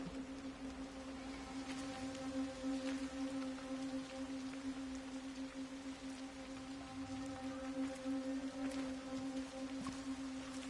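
Rain in the video game Everybody's Gone To The Rapture patters steadily and softly, with a faint sustained hum underneath and scattered drop taps.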